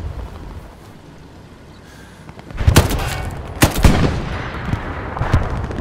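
A tank fires in the WWII shooter Hell Let Loose, two heavy booming blasts close together midway, with sharp gunfire cracks and a rumbling battlefield bed continuing after.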